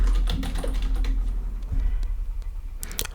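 Rapid typing on a computer keyboard while filling in a job biodata form online, with dense, steady key clicks running throughout and a few louder strokes near the end.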